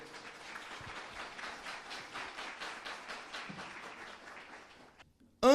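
Church congregation applauding after a Bible reading, rhythmic unison clapping at a moderate level that fades out, followed by a brief loud knock or handling noise at the very end.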